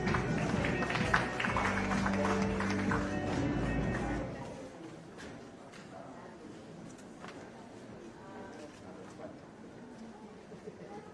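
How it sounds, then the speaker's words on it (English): Audience applause following a pitch for LAWIN autonomous medium-range drones with biocomposite airframes: dense clapping for about four seconds, then fading to quiet room ambience. "Let's give him a round of applause"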